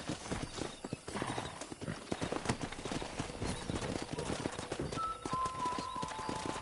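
Horse hooves galloping steadily in Red Dead Redemption, a continuous rhythmic clatter of a wild horse herd on a ranch, with a brief whinny and other game sounds around it.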